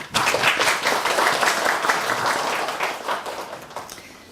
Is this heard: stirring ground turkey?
no